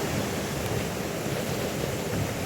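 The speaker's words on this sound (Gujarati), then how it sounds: "ઊંચા ઊંચા મોજા પણ આવી રહ્યા છે." High sea waves surge and crash along a rough shore by a temple, producing a dense, continuous roar of surf with wind, loud and unbroken.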